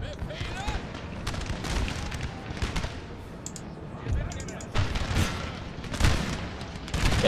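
Artillery units firing on the enemy in the video game Napoleon: Total War, with scattered booms and distant cannon reports thudding at irregular intervals under someone talking.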